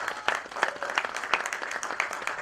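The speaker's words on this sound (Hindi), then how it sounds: "एक तालियां इनके लिए होनी चाहिए।" Audience at a film trailer launch clapping for the associate director, a brief, moderately dense round of applause with sharper individual claps popping out, no talk over it.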